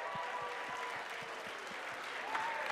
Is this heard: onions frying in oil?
no